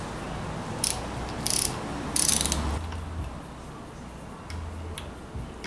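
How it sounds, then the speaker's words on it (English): Torque wrench ratcheting as a bolt on a beadlock tire rim is tightened to specification: three short, close bursts of rapid clicking in quick succession, then quieter handling noises. "to verify that I'm getting it torqued down to the right specification"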